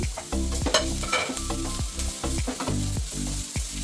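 Ginger, garlic and chopped green chili fry in oil over a high flame for a vegetable spring roll filling, a steady sizzle broken by repeated scraping stirs of a spatula, close and fairly loud.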